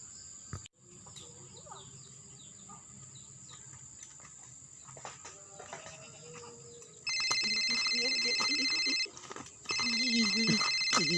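A telephone rings loudly in repeated electronic bursts near the end, with a short gap between them, after a stretch of crickets and quiet background noise with some voices.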